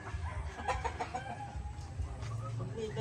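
White bulik gamefowl chickens cluck and call on a small farm, several birds layered over steady low background noise, with a voice faintly present.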